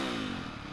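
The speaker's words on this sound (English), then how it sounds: "rev the engine 20 times, letting the engine return to idle between each rev" A motorcycle engine fitted with a Rekluse Core EXP 3.0 auto-clutch revs during break-in, a loud, close mechanical roar with a falling pitch as it drops back toward idle.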